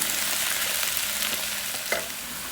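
Cabbage sizzles steadily in a hot sauté pan as it is stirred for vegetable spring rolls, a continuous frying hiss with a few brief scraping clinks of the utensil near the end.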